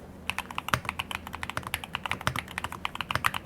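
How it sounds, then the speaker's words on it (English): Fast typing on a Spanish-layout computer keyboard, a quick irregular stream of crisp key clicks and taps close up, heard alone without talk. "I just typed, I love this keyboard, I can type really fast."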